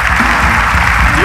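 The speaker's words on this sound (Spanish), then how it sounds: "un aplauso para las mujeres" Audience applause at a live comedy talk show, a loud, steady wash of clapping mixed with crowd voices and cheering throughout the short stretch.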